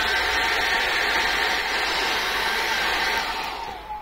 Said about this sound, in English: get the hairdryer on now very quickly